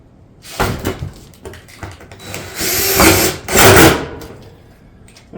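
A power drill drives fasteners into a metal barrel vault roof tile panel, with several short whirring bursts close by, the longest runs near the end, and knocks and handling noise between them.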